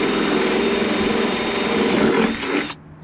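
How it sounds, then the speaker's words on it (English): A power drill whirs loudly and steadily as it bores through the plastic of a Toro LX426 lawn tractor, then cuts off abruptly near the end. "I'm just gonna drill a hole through."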